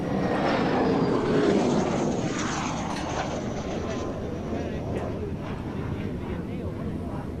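A Hawker Hunter jet at the Royal International Air Tattoo gives off a loud, steady, broad roar that holds throughout, swelling slightly early on and then staying level.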